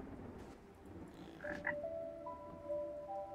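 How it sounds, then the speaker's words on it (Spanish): A frog croaks in the video game Ikonei Island, giving a few short, faint croaking calls over a soft, low background ambience. "Aquí tenemos otra rana."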